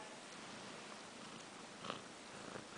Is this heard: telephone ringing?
no